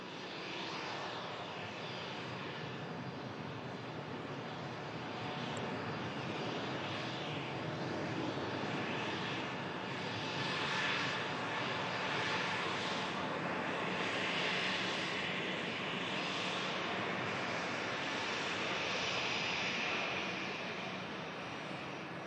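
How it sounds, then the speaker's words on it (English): A Gulf Air jet airliner's engines roar steadily on its takeoff roll, a distant, sustained broadband rumble that swells gently midway and holds with no voices. "Just on a steady takeoff roll. Thrust up very soon."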